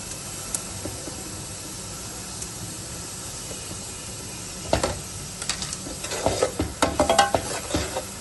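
Chopped tomatoes drop into a hot pot of oil for a beef yakhni pulao, starting a soft steady sizzle that swells with crackles and stirring clatter toward the end, close by.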